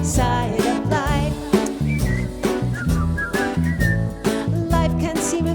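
Whistled melody of a song, a bright wavering tune carried over a steady band accompaniment, loud and continuous.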